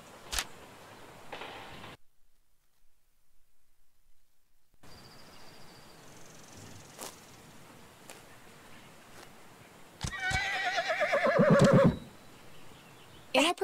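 In the video game Ostwind Windstorm, a horse whinnies with a loud, drawn-out neigh near the end, framed by sparse hoof clip-clops and game effects; a brief silent gap occurs early and a voice speaks quietly.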